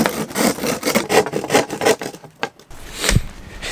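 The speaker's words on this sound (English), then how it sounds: "sawing wood in a closed, non-ventilated room is a bad idea" Wood being sawn by hand outdoors in cold air, a rough rasping rhythm of strokes for a couple of seconds, then a pause and a final scraping stroke, close and fairly loud.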